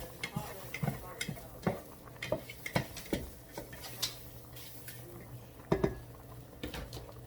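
Egg browning in a home kitchen pan, heard as scattered clinks and scrapes of a utensil against the pan over a faint low sizzle, with irregular taps through the whole stretch.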